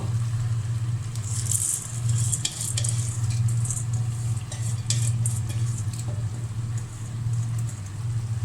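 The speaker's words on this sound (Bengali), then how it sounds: "আমি এখানে এই গোশের মধ্যেই চাউলটা ভেজে নেব।" Rice frying in a pot of cooked, spiced meat gives a soft, steady sizzle and crackle over a constant low hum from a nearby motor.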